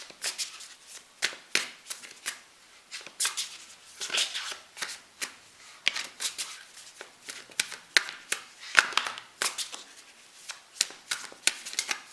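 Tarot cards being shuffled by hand, close and crisp: repeated riffling, flicking bursts in an uneven rhythm with brief pauses, and no talking.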